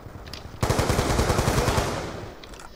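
An AN-94 assault rifle in Call of Duty Black Ops 2 opens up after a short quiet pause, letting off a rapid, steady burst of loud, close shots for about a second and a half before it cuts off and trails away.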